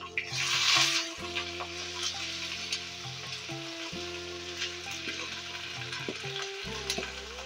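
Chopped radish and mixed vegetables for a Bengali labra sizzle in hot oil in a pan, a steady close frying hiss broken by a burst of louder spitting early on and occasional stirring clatter.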